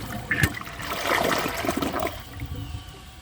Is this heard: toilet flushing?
yes